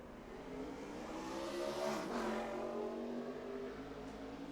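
A NASCAR Nationwide Series race car, a Toyota backup car, laps Darlington during qualifying at the Royal Purple 200. The engine drones steadily throughout and swells as the car sweeps past, with no talk over it.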